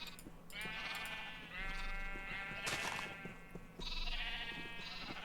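Sheep in a blocky survival video game bleat continuously, several overlapping wavering calls close and loud, one after another with no gaps and no talking.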